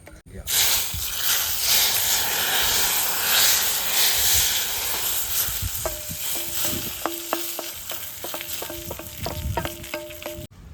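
A hot tempering with curry leaves is poured into sambar, giving a loud, bursting sizzle and hiss that continues with crackling while a voice talks in the background.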